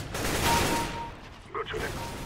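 Gunfire during bot practice in a shooter game, a loud burst of rapid shots followed by further sharp reports, with a voice speaking over it.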